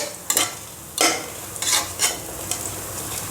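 Food sautés in a pan until reddish for a biryani, a continuous close sizzle broken by several sharp bursts of stirring and scraping at irregular intervals.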